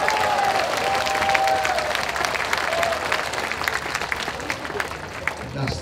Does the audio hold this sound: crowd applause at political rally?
yes